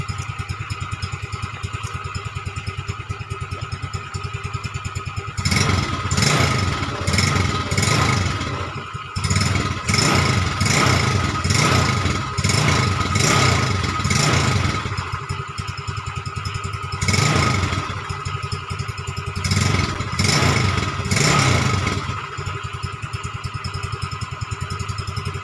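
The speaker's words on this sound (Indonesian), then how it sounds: "malam sunyi, nggak ada suara, jadi hanya suara motor ini." A Yamaha Mio scooter fitted with a custom CVT and roller housing idles at night, then revs repeatedly in short bursts, the small engine rising and falling in pitch up close with a steady idle between throttle blips.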